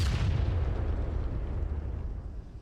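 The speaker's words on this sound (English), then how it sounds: "You can hear that AT firing." Anti-tank gun firing in a military video game: one heavy, loud boom right at the start, then a long, deep rumble that fades away over the next couple of seconds.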